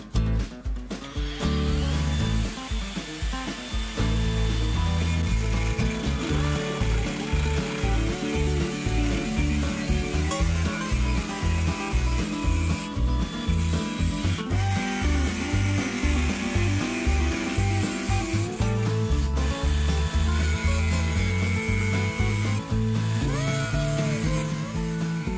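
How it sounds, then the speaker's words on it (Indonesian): A cordless angle grinder fitted with a Rio cutting disc cuts through material, producing a sustained, loud grinding whine with a rough, rhythmic rasp that drops out briefly a few times before resuming. "Di sini saya akan sekalian menjajal gerinda cordlessnya ya, yang di awal kita review."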